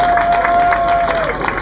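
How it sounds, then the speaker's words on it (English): Audience applause at an FLW Delta pro bass fishing weigh-in on the Central Coast, a dense, steady patter of clapping from a crowd lasting a moment with a thin tone running beneath it. "Let's give Roy a big round of applause."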